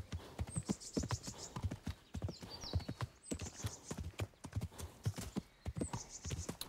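Horse hooves clip-clop in a steady trotting rhythm while riding in the video game Kingdom Come: Deliverance, continuous and close, with a few faint neighs and whinnies over it.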